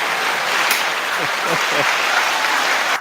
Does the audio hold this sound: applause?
yes